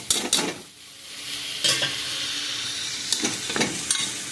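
Washed moong dal frying in a pan, a continuous sizzle broken by several scraping stirring strokes of a spoon against the pan.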